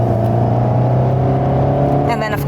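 An Alpine A110 S sports car with a 7-speed automatic gearbox pulls along in a low gear, a steady, close engine drone and hum held throughout, with a voice talking over it.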